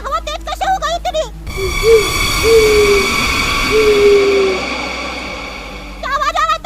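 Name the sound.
owl hooting at night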